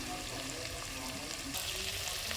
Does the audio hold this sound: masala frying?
yes